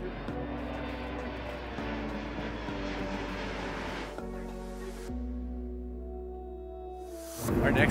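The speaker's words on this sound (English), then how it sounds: "Plus, the planes are taking off over your head every few minutes." Jet airplanes taking off over the George Washington Memorial Parkway near Washington, D.C., a steady engine drone rolling overhead at moderate distance, fading and then swelling again toward the end.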